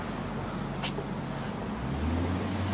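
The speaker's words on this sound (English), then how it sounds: "Another GT. That one sounds good." A GT sports car drives past on a street, its engine a steady broad roar that swells near the end over continuous traffic background.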